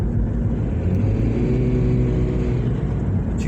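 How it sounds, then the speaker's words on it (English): A 2007 Toyota Prius engine, worn and running rough, produces a steady low rumbling drone with a faint rattly buzz, close and continuous, with no talking. "that brrr that you hear is essentially the engine slowly dying"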